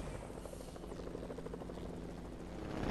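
A helicopter flying in a video game gives a steady, close rotor thrum with a constant pulsing chop, rising slightly in loudness at the end; no talk.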